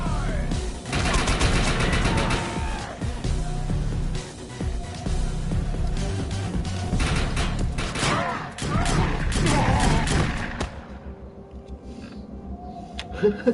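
Gunfire in the video game Defiance 2050, heard as long stretches of dense, rapid shooting that runs loud and steady for about ten seconds before thinning out into quieter game sounds.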